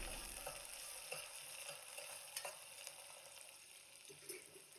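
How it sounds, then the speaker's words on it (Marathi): Finely chopped onion sautés in hot oil with a soft, continuous sizzle and occasional stirring scrapes, faint and close, with no talking. "कांदा आपल्याला तेलावर छान असा परतवून घ्यायचा आहे"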